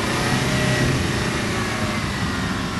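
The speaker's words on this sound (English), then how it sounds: "Go, go, revs, revs, revs, revs. Revs, revs, revs, more revs." A car engine at a team rally event revs steadily and loudly throughout, a dense continuous roar with no pauses and no speech.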